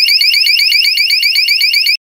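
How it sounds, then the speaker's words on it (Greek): A Secure Pro home alarm system's built-in 100-decibel siren wails in rapid, repeating electronic sweeps. It is very loud and continuous, with no other sound under it. "τότε ενεργοποιείται αυτόματα η σιρήνα των 100 decibel"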